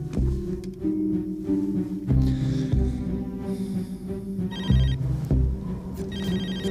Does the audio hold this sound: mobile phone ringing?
yes